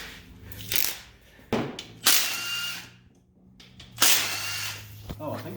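A power tool, likely an impact gun, buzzes off the oil pan bolts of a car with a turbocharged LS engine in several loud, close bursts with short gaps in between, and faint voices and clatter underneath.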